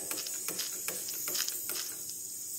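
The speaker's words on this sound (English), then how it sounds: "I'm going to disconnect the schrader, the hose, and check the schrader valve with LVF" A hose being disconnected from the Schrader valve on a boiler, giving a short burst of close ratcheting clicks and brief hissy releases over a few seconds, with no speech.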